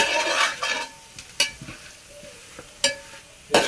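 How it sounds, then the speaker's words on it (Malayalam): Chicken curry masala fries in a pan with a steady sizzle, cut by several sharp scraping strokes from a spoon being stirred, close and fairly loud. No one speaks. "മസാലയൊക്കെ ഒന്ന് നന്നായിട്ട് പിടിച്ച് അതിൻ്റെ കളറൊന്ന് മാറി വന്നൊന്ന് ഇളക്കുകയാണ്."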